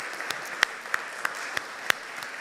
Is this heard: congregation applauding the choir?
yes